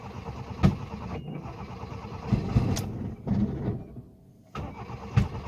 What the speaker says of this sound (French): Moi, j'aime ça, des backfires.